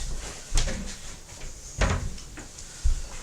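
A door is shut in a house, giving three separate thuds and clunks spaced about a second apart, near and fairly loud against a quiet room.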